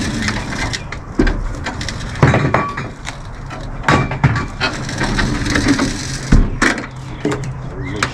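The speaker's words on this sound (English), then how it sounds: "it's cracking like it's about to break or something" Cracking and crunching from a worn part as grease is pumped into it with a grease gun, coming in loud irregular bursts and snaps over a steady working din.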